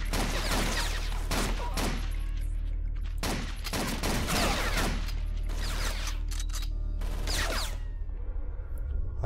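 Bursts of automatic gunfire in the Blade of Agony video game, several loud rapid volleys separated by short pauses, with mechanical clanks between them.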